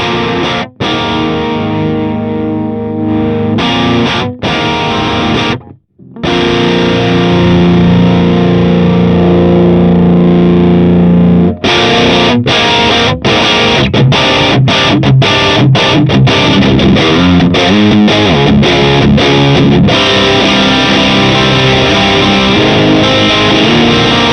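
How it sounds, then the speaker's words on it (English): Heavily distorted electric guitar through a Marshall JCM 800 amp and Marshall cabinet plays crunchy classic-rock chords and riffs, with a sustained ringing note in the middle and choppy stabs toward the end, loud and close. "that's a pretty good classic rock Marshall sort of sound"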